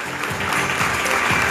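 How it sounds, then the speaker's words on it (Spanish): Audience applause fills the hall at a film festival award ceremony in Argentina, a dense, sustained clapping from a large crowd that stays loud and unbroken throughout. "Fuerte aplauso."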